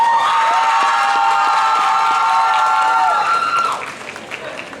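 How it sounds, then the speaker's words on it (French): Convention crowd applauding a Furina cosplayer at the Kamoplay 2025 cosplay contest: steady dense clapping with some cheering, overlaid by loud sustained musical tones that cut off near the end, leaving the clapping to thin out. "Dans son cosplay de Furina, applaudissez-la fort"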